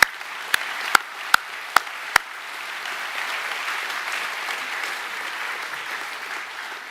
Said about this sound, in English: Can we please give all those departments a huge round of applause?